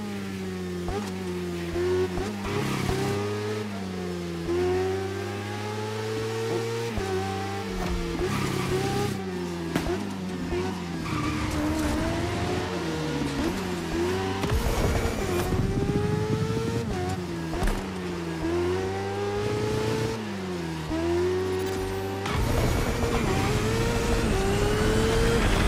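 Motorbike race engines in a racing video game, a continuous high revving whine that rises and falls with gear shifts through corners, loud and close with no talking over it.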